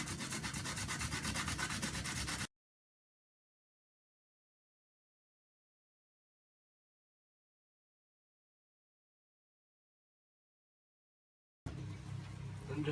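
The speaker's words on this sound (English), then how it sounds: "Just going to want to get a piece of sandpaper," Sandpaper rubbed by hand across small wooden pieces, a close steady scratching for a couple of seconds, then silence before the rubbing resumes briefly.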